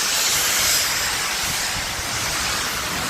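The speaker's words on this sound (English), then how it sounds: "that noise is they're steam cleaning the Pritzker band shell behind us" A steam cleaning machine at work on the Pritzker band shell in Chicago gives a loud, continuous broadband hiss that fills the whole stretch without letting up.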